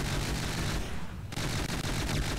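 An advanced cannon in From the Depths, built for fast fire, shoots a rapid, dense barrage of loud reports. There is one brief lull for a reload before the steady, relentless firing resumes.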